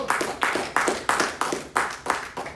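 A church congregation claps for the Lord during a Christian sermon, with loud, steady rhythmic claps in unison, about three per second, close and clear with no voices over them.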